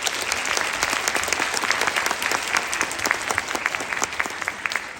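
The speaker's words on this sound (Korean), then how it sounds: "모두 박수 한번 보내주세요" Sustained applause from an audience of guests at an Andong MBC children's choir annual concert, dense steady clapping from many hands filling the hall for several seconds.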